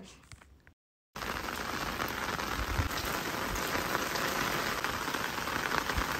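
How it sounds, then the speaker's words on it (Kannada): Steady rain falls in a dense, even hiss of drops pattering on surfaces, loud and continuous. It begins after a brief silence that follows a short stretch of quieter ambience. "ದಿನ ಪೂರ್ತಿ ಮಳೆ ಬರ್ತಿತ್ತು."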